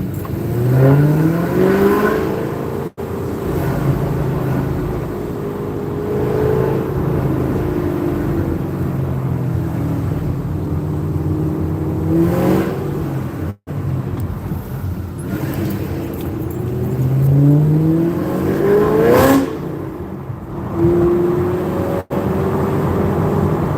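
A car being driven, its engine droning steadily and rising and falling in pitch through repeated gear changes, close and loud throughout with no talking.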